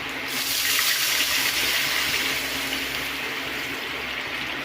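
Water pours in a steady, fairly loud rushing stream as it is added to rice batter for Odia poda pitha, continuing unbroken from start to finish with no voices.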